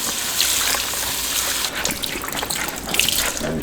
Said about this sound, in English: I'm rinsing it with hot water.